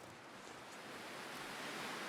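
Wind and snow storm in The Long Dark: a steady, wide hissing roar of gusting wind and blown snow, faint and continuous, slowly swelling, with no voices.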